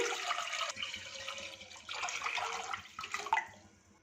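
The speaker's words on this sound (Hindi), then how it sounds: "इसमें दूध शामिल कर देंगे" About 1.2 litres of milk pours into a pan on the stove for a tapioca drink. The liquid splashes close and continuously, then tapers off at the end, with no talk.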